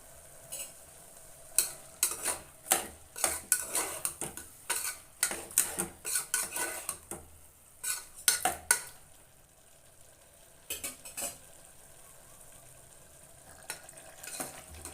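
Mushroom biryani being stirred with masala in a pot, a rapid run of scraping, clinking spoon strokes against the metal over a faint sizzle, pausing midway and then resuming with a few more strokes.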